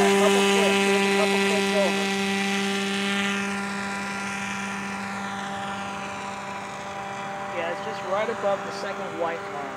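A model Kolb Firestar aircraft's small motor runs at half throttle, a steady, buzzing propeller drone with a strong tonal hum close by, as someone speaks over it toward the end.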